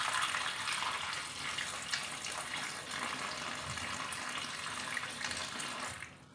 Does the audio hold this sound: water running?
yes